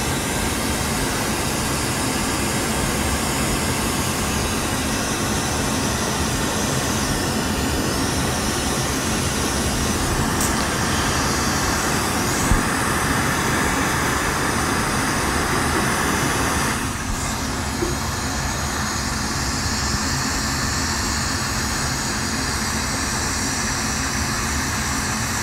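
A glassworking torch flame reheating a mass of glass, a steady, loud broadband roar that runs unbroken for the whole stretch with slight shifts in tone and no talking.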